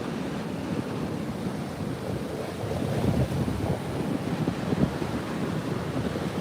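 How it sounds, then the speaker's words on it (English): Ocean waves rolling onto a rocky beach in New York, a continuous broad wash of surf and rushing water mixed with gusty wind buffeting the microphone. "waves look great"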